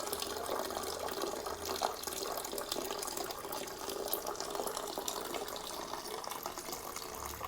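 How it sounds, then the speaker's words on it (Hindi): Water from a household storage tank runs into a tub, a steady, fairly soft splashing stream that continues without a break, with no voices. "इस वाली टंकी का पानी आ रहा है तो टब में भर लिया जाएगा"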